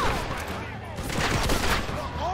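Rapid gunfire in the video game Red Dead Redemption, dense overlapping shots in a sustained volley, loud and close, with a voice talking over it.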